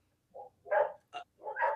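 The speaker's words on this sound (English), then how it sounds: "I like the barking." Neighbour's dogs bark outside in four short, sharp bursts with brief pauses between them. The barks are moderately close, with no talking.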